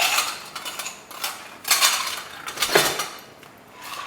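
Ice cubes drop and clatter into a cup, giving several hard clinks and rattles in a short burst, close and fairly loud, with no talking.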